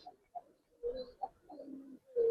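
A pair of pigeons cooing softly at close range, with several short, gentle coos coming in an uneven rhythm and no talk over them.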